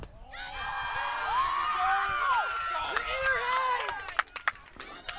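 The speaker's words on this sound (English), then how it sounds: "The crowd coming alive as they feel this could be the turning point for the Red Rams" A crowd at a high school softball championship game, Auburn Maroons against Jamesville-DeWitt Red Rams, cheers and shouts steadily with several voices rising above the din, then a few sharp claps or whoops stand out near the end.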